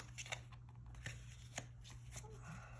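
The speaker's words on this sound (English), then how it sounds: "Wait a second, they asked me to shuffle. I think my deck is upside down." Tarot deck being shuffled by hand, a soft papery riffle with a few brief flicks and taps, faint and close over a low steady hum, with no talk.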